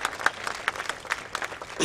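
Brief burst of audience applause and cheering at a fashion event, with scattered claps and rising voices, fairly close and lively.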